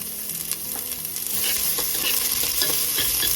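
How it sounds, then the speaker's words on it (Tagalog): Onion and garlic sautéing in a hot pan, a steady loud sizzle with occasional stirring clinks and scrapes, growing slightly louder, no talking. "ang ating sabuyas tumatalon. Nasunog na."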